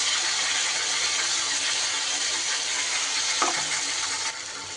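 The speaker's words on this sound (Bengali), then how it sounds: "এবার আমি যে মশলাটা পেস্ট করলাম সেই মশলাটা দিয়ে দিলাম" Ground spice paste frying in hot oil for a bhangar fish curry, a loud steady sizzle close up with one brief scrape of stirring, easing slightly near the end.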